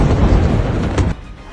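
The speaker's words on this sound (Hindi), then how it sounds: "जोरदार धमाके की आवाज सुनी गई।" A loud explosion from an air strike: a single heavy, broad boom that fills the moment and then drops away abruptly into a quieter rumble.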